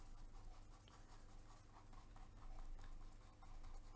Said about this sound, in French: Donc, je dessine comme ça.